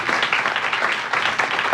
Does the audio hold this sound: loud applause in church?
yes